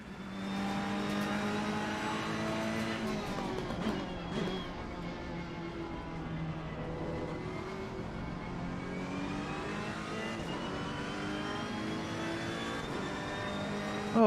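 GT3 race cars lapping Donington Park in a racing video game, a steady layered engine drone with rising and falling revs as several cars run together, continuous and moderately loud throughout.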